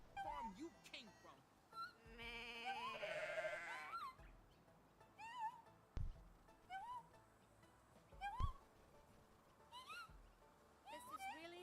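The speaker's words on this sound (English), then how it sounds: "There's a goat." In Goat Simulator 3, a goat lets out a string of short, nasal bleats at irregular intervals, fairly faint, with voices and other game sounds mixed in.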